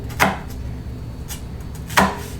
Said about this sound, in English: I'm gonna slice up my onions into little pieces